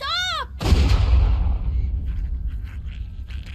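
A single gunshot from The Walking Dead, Season 2, rings out as a loud, booming blast with a long rumbling decay, following a brief high tonal sweep.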